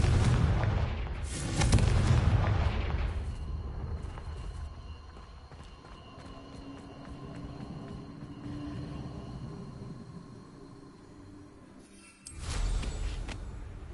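A Confringo blasting curse goes off in Hogwarts Legacy, a loud booming burst at the start followed by a rumbling tail, with a second heavy impact near the end over game ambience.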